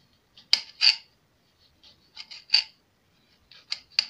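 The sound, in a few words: cutting bell pepper into strips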